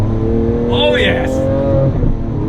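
A 2018 Lamborghini Aventador S, the 740 PS model, is heard with its engine humming loud and steady, a rising rev swelling briefly under a voice that speaks over it.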